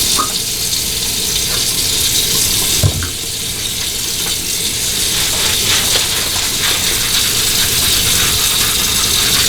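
Tap water runs steadily as hair dye is rinsed out, a continuous broadband wash with a brief knock near the three-second mark and no speech.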